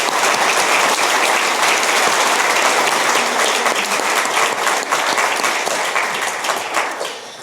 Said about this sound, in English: I'd like everyone to give them a round of applause.